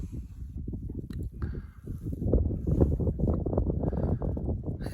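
Gusty wind buffeting the microphone in low, rumbling bursts, swelling and easing unevenly throughout, close and fairly loud.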